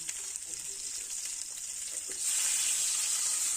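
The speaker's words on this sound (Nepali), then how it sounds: "अब फ्राई गर्नुपर्छ मजाले।" Eggs frying in a pan with spices, salt and Kashmiri chili powder for anda curry, a steady close sizzle that swells louder and brighter partway through, with a few faint stirring clicks.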